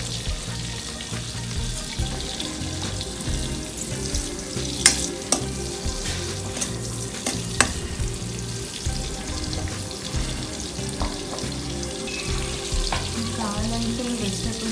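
Onions, green chillies and vegetables fry in butter for pav bhaji, a continuous loud sizzle with stirring scrapes and occasional clicks of a spoon against the pan, music in the background.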